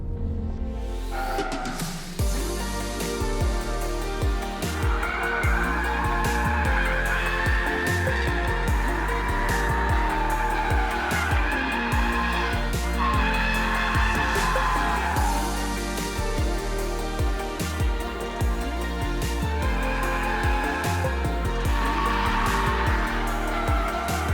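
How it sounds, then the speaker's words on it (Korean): A 2021 BMW M340i xDrive Touring driven hard on a circuit, engine roaring and shifting through revs while tires squeal repeatedly, loud and close for the whole stretch with no talking. "이 엑스드라이브 투어링 M340i 서킷 같은 환경에서 달린다면 어떨까요?"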